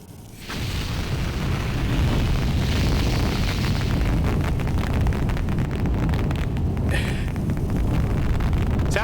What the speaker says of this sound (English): And we blast off with our rocket.